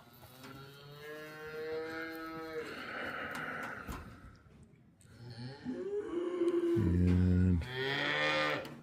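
A cow calling for her calf moos repeatedly, with long drawn-out calls and a loud, deep bellow near the end, close by and alone.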